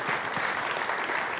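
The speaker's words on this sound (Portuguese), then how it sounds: "aplaude e glorifique o Senhor" Church congregation applauding during a worship service, a short stretch of steady, moderately faint clapping from the crowd.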